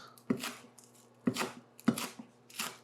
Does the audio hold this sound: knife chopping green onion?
yes